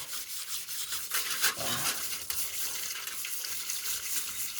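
A metal grill plate scrubbed by hand under running water, producing a steady wet rubbing and scraping close by, continuous with slight rises in intensity.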